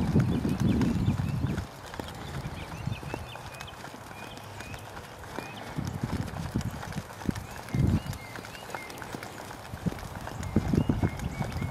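Horse hooves in a western dressage lesson thud and clop on soft arena footing in uneven bursts, louder at moments as the horse passes near and softer in between.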